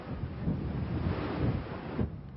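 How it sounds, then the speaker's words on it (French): Storm wind and a heavy swell batter the Cotentin coast of Normandy during a winter gale with gusts of 156 km/h, a loud, continuous roar of buffeting wind and crashing surf that eases slightly near the end. "la tempête et une houle assez forte ont déferlé sur le Cotentin"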